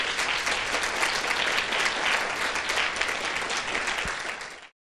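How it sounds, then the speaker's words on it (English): A full audience claps steadily and warmly after a talk about women, addiction and domestic violence, the dense applause holding evenly before cutting off abruptly. "please also giving the Transition Society a round of applause"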